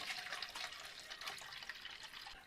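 Filtered water pouring steadily into a measuring cup while making coffee off grid, a continuous close splashing trickle with no talk.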